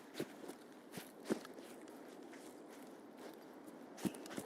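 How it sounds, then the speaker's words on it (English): Footsteps crunching through snow in a video game: a handful of sharp, irregular steps over a quiet, steady ambient bed, with no talking. "the snow crunch is crazy"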